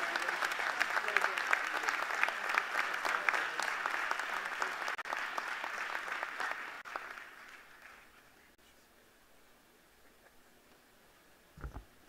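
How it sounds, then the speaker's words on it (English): Loud, sustained audience applause at a university presidential installation ceremony, a crowd clapping steadily that fades out over several seconds into a quiet room. "give him a hand clap of praise"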